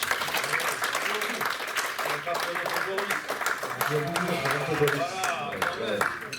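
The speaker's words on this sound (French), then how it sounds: "J'aimerais qu'on l'applaudisse." Audience applause for a saxophonist at an evening music performance, steady clapping that carries on throughout while someone speaks over it.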